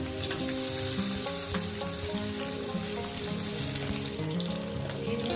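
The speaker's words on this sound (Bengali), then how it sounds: "আলুগুলো দিয়ে আমি লাল লাল করে ভেজে নেব" Potatoes fry in a pan for a vegetarian dish, giving a continuous loud sizzle with fine crackling that holds steady from start to end, with no voices.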